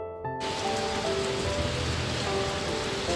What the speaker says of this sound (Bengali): এই যে বৃষ্টির সাউন্ডটা শুনলে হয়তো আপনারা বুঝতে পারবেন যে কি পরিমাণ বৃষ্টি হয়েছে হঠাৎ করে।